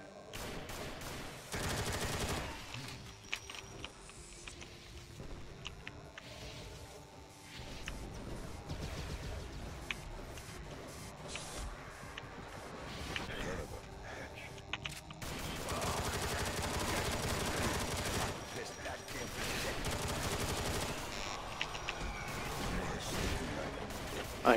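Gunfire from weapons in the game Scythe, a dense, loud, continuous barrage of rapid shots and crashes running throughout, swelling louder in the latter half.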